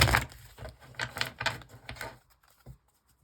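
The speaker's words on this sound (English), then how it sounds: "I'm just going to shuffle my main deck so we can get some clarification cards going on" A tarot card deck being shuffled by hand, giving a burst of crisp riffling card flutters and soft taps that fade out after about two and a half seconds, close and fairly quiet, with no talking.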